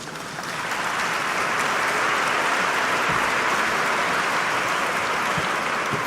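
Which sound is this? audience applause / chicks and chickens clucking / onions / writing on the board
audience applause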